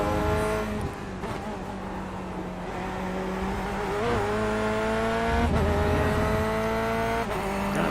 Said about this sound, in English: now that I do the close chase, you can hear the backfiring like crazy still